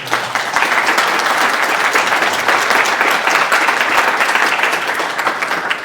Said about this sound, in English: How about a nice round of applause for our speaker?